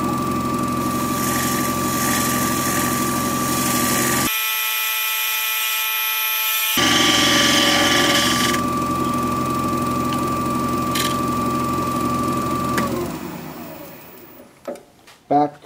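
A wood lathe turns a Russian olive spindle, cut with a 3/8 or half inch spindle gouge: a loud, steady whine with a droning tone runs throughout, breaks off briefly, then winds down near the end with a few knocks.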